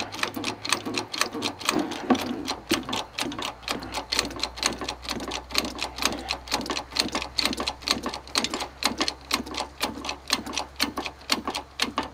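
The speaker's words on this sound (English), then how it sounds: "We're going to pump that cylinder down." The hydraulic cab jack cylinder on a Ford CLT9000 cab-over truck being pumped down, a loud, steady, fast mechanical clacking of the pump repeating evenly throughout with no pauses.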